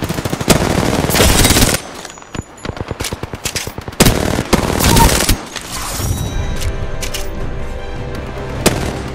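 Gunfire in the Apex Legends video game: loud, rapid automatic bursts with sharp booming shots, separated by brief gaps, then a quieter stretch of scattered fire.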